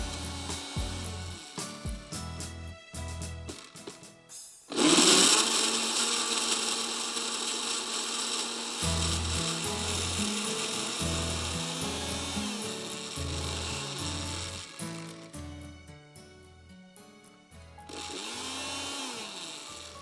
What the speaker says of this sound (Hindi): आइसक्रीम को अच्छी तरह पीसना है।